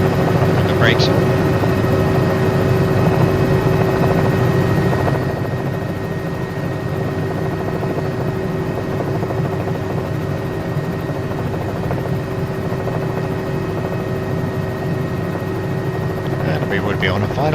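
Simulated helicopter in a flight simulator game: a continuous rotor and turbine drone with a steady tonal whine, loud at first and easing slightly after a few seconds, then holding level.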